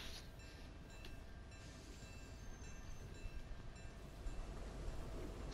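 A moving train in the video game Fortnite rumbles steadily with faint rail clatter and thin whining tones, growing slightly louder toward the end, with no talk.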